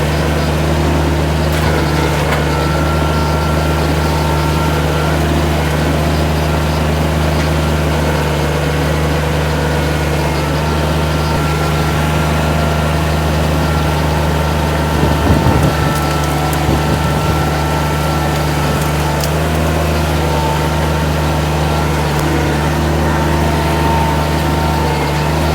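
A 60 horsepower compact utility tractor fitted with a root grapple runs steadily throughout, its engine a constant close, loud drone with a slight rise in load around the middle.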